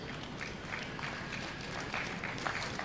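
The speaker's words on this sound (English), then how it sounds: "Let's give these kids a round of applause." Faint, steady applause from an audience for kids showing hogs at a county swine show, a dense distant patter of clapping that holds evenly throughout.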